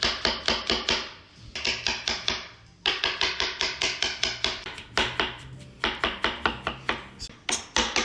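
Mushrooms being finely chopped with a knife for a stuffed shrimp filling, heard as rapid, crisp, close-up taps on a cutting board in several rhythmic bursts with brief gaps.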